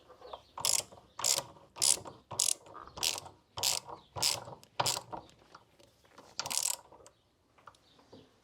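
A ratchet tightens bolts that fix a vice to an SGS toolbox. About a dozen close, evenly spaced ratcheting bursts come in a steady rhythm, then a brief pause before one last burst.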